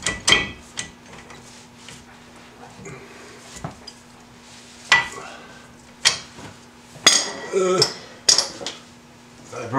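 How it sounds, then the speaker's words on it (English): A 13/16 socket wrench working on caliper bracket bolts of a C4 Corvette during a brake upgrade, with scattered sharp metallic clanks and ratcheting knocks at irregular intervals over a quiet background, and brief talk in between. "now to get the caliper bracket off of it, I use a 13/16 socket"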